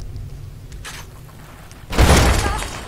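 After a quiet stretch, a sudden loud dynamite explosion in Fallout: New Vegas bursts out overhead and rumbles, then slowly fades.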